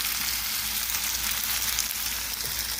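Hash browns frying in butter in a pan: a steady, loud, close hiss and crackle of sizzling that stays even throughout, with no talking.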